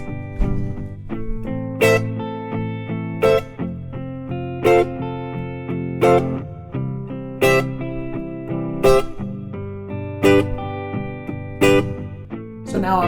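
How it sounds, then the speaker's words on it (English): Short, rhythmic guitar chords loop over a sustained backing layer with reverb, the strums landing as regular bright accents about every second and a half, steady and fairly loud with no voices. "I'm going to add a little reverb to this, and maybe play short chords or something."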